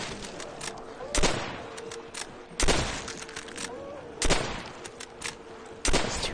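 Gunfire in Call of Duty: World at War zombies mode comes in sharp bursts roughly every one to one and a half seconds, loud and close, with rapid shots between and faint talk underneath.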